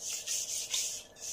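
A knife blade rubbed with folded sandpaper in a sharpening session, giving short rhythmic scratchy strokes, about five close rasping passes in quick succession with no talking.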